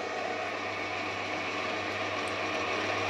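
A CTC280 bench lathe runs with its lever engaged for thread cutting, giving a steady close mechanical whir with a low hum and faint ticking throughout, no voices.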